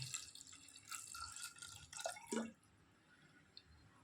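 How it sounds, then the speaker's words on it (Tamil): Water is poured into lentils seasoned with turmeric and castor oil in a pressure cooker for dal: a short burst of splashing and dripping lasting about two seconds before falling quiet. "இப்போ பருப்பு வேக தேவையான அளவு தண்ணி சேர்த்துக்கலாம்"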